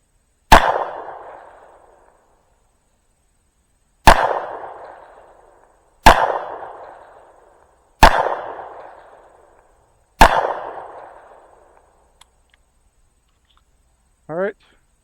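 Five sharp pistol shots fired at targets ring out alone, spaced a few seconds apart, each one loud and close with a decaying echo, and a brief voice follows at the end.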